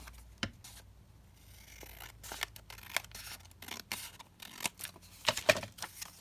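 Scissors trim the edges of a paper ephemera piece with a scattering of quiet snips and rustles, building into a cluster of crisper cuts toward the end, close-up and with no talking.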